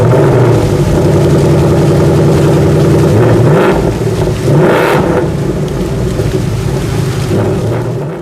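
A 2024 Ford Mustang GT's 5.0-liter V8 runs with a loud, steady low rumble, rising in two brief throttle blips partway through before settling back to idle; no voices.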